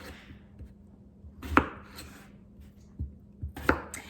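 A knife cuts through potatoes on a cutting board for a pot roast, a few sharp, separate thunks with quiet pauses between them.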